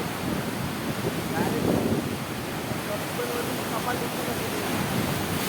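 Heavy waves pound the shore at Bhardkhol Koliwada, a dense continuous roar that swells slightly midway, with wind buffeting the microphone.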